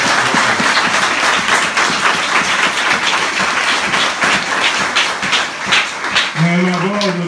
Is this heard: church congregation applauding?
yes